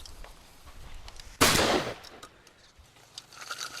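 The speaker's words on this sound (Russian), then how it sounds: "he's shooting true cylinder now" A single shotgun blast fired with a true cylinder choke at pigeons in the field. It is loud and close, with a sharp onset and a roughly half-second decaying roar, set against quiet outdoor background.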